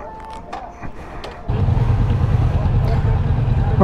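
A Kawasaki Vulcan S motorcycle engine starts up about halfway through, then runs as a steady, loud low rumble close by after quieter handling noises.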